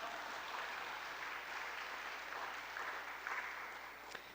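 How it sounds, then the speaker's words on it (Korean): Soft, distant applause from a church congregation at a Sunday gathering in Daegu runs as a faint, continuous patter with a slightly louder moment near the end. "박수 한번 치자고요."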